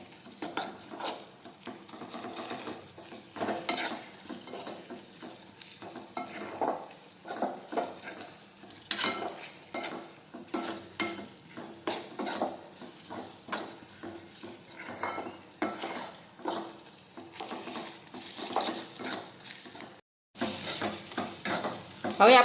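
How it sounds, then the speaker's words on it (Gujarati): Spices being stirred into okra curry in a pan make repeated scraping and clinking strokes with a soft sizzle underneath, moderately quiet and close, with a brief gap near the end. "હવે આ રીતે બધા મસાલા છે તે મિક્સ કરી દઈશું."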